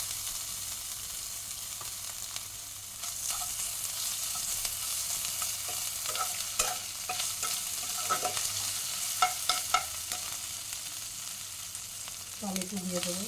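Ginger paste frying and being stirred in a pan, a soft steady sizzle broken by scattered scraping clicks of the spoon, faint and close with a brief louder hiss near the end.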